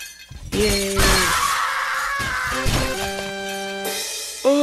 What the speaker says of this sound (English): Oh, that scream!